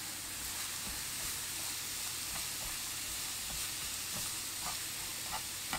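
Cauliflower fried rice frying in coconut oil, a loud, even hiss of sizzling held throughout, with soft intermittent scrapes as it is stirred in the pan, nearby and without speech.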